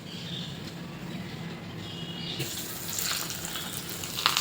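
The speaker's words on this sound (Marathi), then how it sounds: "अशी वरून फोडणी टाकायची." Hot tempering of mustard seeds, asafoetida, curry leaves and urad dal poured over appe batter made from dosa batter, a sudden loud sizzling hiss bursting in halfway through and continuing steadily.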